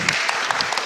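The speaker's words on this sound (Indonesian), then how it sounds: "Berikan tepuk tangan untuk Joshua" A church congregation applauds for Joshua during an Easter service at Happy Family Center Church: a brief, dense burst of many hands clapping together, full and close, with no voices over it.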